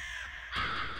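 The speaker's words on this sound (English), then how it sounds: "Oh, the crow sound." A crow caws in the LISA Definitive Edition video game, a single close, harsh call that swells up midway through a steady game backdrop.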